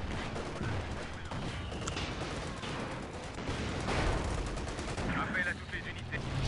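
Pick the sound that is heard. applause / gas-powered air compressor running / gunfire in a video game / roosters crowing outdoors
gunfire in a video game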